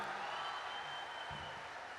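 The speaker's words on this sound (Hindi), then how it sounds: "बजाओ एक बार मिलके ताली साहब।" An audience at a Hindi kavi sammelan poetry recital claps together, a steady wash of applause that stays fairly soft and even throughout.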